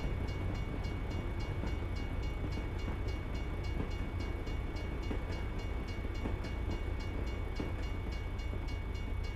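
A short train rolls by steadily in American Truck Simulator, a continuous loud rumble with rhythmic wheel clatter lasting throughout, with no voices over it.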